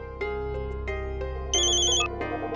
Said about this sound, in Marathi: हो तिचाच फोन आहे